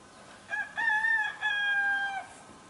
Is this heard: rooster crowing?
yes